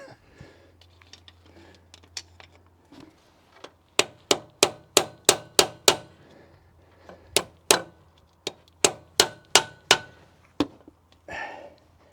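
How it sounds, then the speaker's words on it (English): A big screwdriver is hammered in to wedge out the water pump on a Crown Vic, sharp metallic strikes arriving in quick bursts of five or six blows with short pauses between, loud and close. "I've had to use a screwdriver, a big one, to get in right where these ears are and just hammer it in to wedge this thing out"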